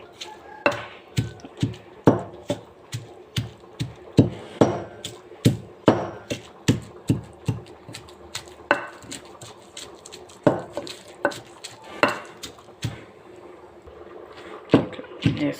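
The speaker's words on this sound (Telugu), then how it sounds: "రోట్లో వేసి దంచేస్తాను కరెంట్ లేకుండా ఇలా రోట్లో దంచేసుకోవడం చాలా మంచిది" Chutney ingredients pounded by hand in a traditional stone mortar, a steady run of dull, close thuds in an uneven rhythm, each strike sharp and short with quiet pauses between.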